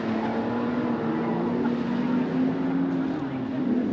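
Superstock race cars on a dirt speedway track produce a continuous loud engine drone with a steady pitch, like cars circling at speed nearby, and no clear talk over it.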